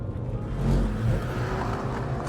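A Porsche 968 driving through a tight bend, its engine a steady low droning hum from inside the cabin that swells slightly and then holds, with continuous road and tire noise underneath.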